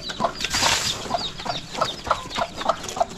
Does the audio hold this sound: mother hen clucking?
yes